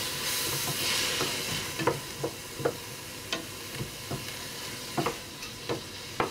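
Onions sizzle steadily in a saucepan while a utensil stirs them, producing repeated sharp scraping clicks over the continuous frying hiss.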